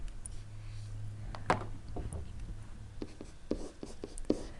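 Marker or pen writing out an algebra equation for an inverse function on a board, with short scratchy strokes and taps in uneven bursts over a low steady hum, fairly close.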